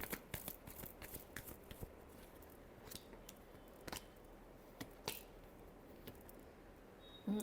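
Tarot cards being shuffled by hand, with soft, uneven riffling and slapping bursts scattered over about seven seconds, close and quiet, with no talking.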